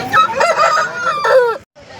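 A rooster crows loudly and close at Pileru hen market, two strained calls in quick succession, the second cut off abruptly, with market noise faint behind.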